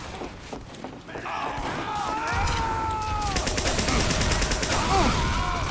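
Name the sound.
rapid RPG fire in a video game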